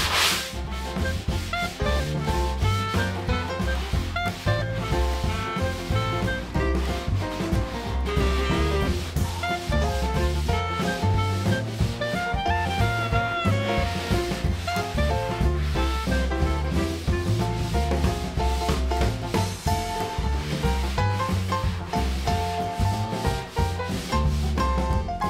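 Hand sanding of drywall joint compound along sheetrock seams on a ceiling: a steady, continuous close-up scratchy rubbing with rapid back-and-forth strokes, sustained and fairly loud throughout, with no speech.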